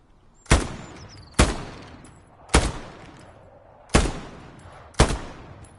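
Five loud, sharp gunshots from a slow-firing rifle in the World War II shooter Hell Let Loose, spaced about a second apart, each followed by a brief echoing tail, with no talking.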